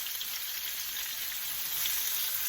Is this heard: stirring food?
yes